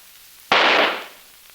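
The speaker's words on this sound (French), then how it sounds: "Quand ce pétard a explosé," A single firecracker bursts with a sudden sharp crack, then a loud hissing roar that fades over about half a second, heard on its own against quiet.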